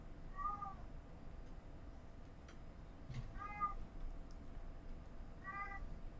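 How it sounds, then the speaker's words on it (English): A domestic cat meows three times at a steady spacing, each call short and clear over a quiet room background, with no voices present. "my cat yelling at me"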